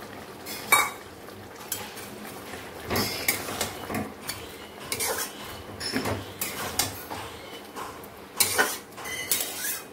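Clinks and scrapes of a spoon against a pan as fried dried fish is stirred into a simmering curry, in irregular near clattering bursts over a low kitchen background.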